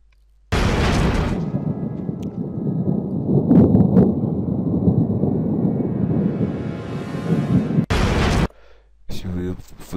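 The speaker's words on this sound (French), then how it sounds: "on augmente un peu le son de l'éclair" A thunder and lightning sound effect plays in an edit, a loud sustained rumbling crash that swells and fades, then cuts off abruptly and is followed by short separate bursts.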